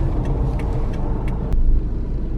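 Car passing on a road, a broad rumbling traffic roar close by that swells briefly, with faint clicks over it and no talking.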